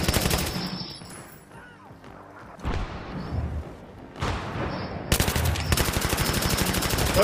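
Battlefield 3 gunfight with dense rapid machine-gun bursts and gunshots, loud and close, easing briefly in the middle and then returning as a sustained rattling burst.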